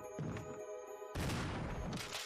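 A handgun fired in Resident Evil: a sudden loud, booming shot cuts in about halfway, its crashing blast and echo continuing to the end after a quieter, humming stretch.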